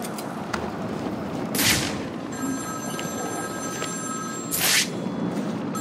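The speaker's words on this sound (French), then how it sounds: "Un téléphone sonne quelque part." A telephone in Batman Arkham City rings with a thin repeated tone. Two loud noisy bursts and steady low rumble sit around it, and no one talks.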